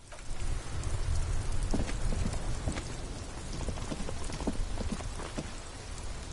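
Steady rain in the video game Disco Elysium, a dense hiss of drops striking hard surfaces with scattered sharper ticks and taps running throughout, loud and close without any voices.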